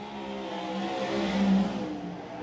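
A race car laps Silver Dollar Speedway, its engine note rising to a loud peak at mid-pass and then easing off, steady and alone.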